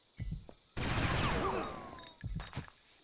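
A rapid burst of gunfire from the video game Fear Effect erupts and rings out for over a second, set between short bursts of voice.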